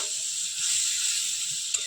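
Spice paste frying in a pan after water is added gives a steady, bright sizzle and hiss, close and even, with a small pop near the end and no talking.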